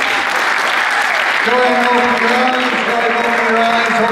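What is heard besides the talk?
audience applause at a hypnosis show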